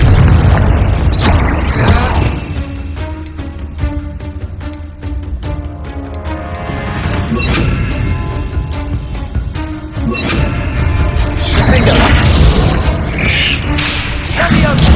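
Booming blasts from the Confringo blasting curse in the video game Hogwarts Legacy, heavy explosions rolling over a loud, dense game soundtrack with a voice speaking.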